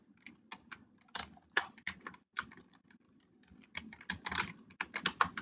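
Soft, irregular bursts of keystrokes on a computer keyboard come in quick clusters with short pauses, quiet and close in an otherwise silent room.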